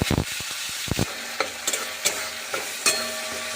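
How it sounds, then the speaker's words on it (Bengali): Chopped tomato sizzles in hot fish-frying oil with black cumin, while a spatula scrapes and stirs the pan in sharp irregular strokes over a steady hiss. "এবার আমি টমেটোটাকে ভালো করে ভেজে নেব।"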